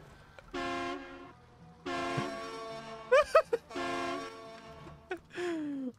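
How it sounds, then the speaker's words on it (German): Truck horn honking underwater in a video game, several long harmonic blasts with short sharp toots in between, loud and close with no talk over it. "Ich kann unter Wasser hupen, ist das dumm."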